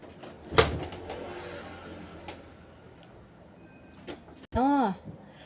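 A door is opened for a cat, with a sharp knock or clack, a few quieter clicks, then a loud thud followed by a short wavering cry like a meow, over low indoor background noise.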